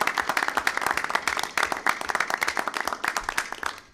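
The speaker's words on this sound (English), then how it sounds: "let's give them all a round of applause for attending this evening" Applause from an audience at a high school board meeting, honoring first responders and government officials in attendance; a dense crowd of hands clapping steadily for about four seconds, filling the room with a bright, continuous patter.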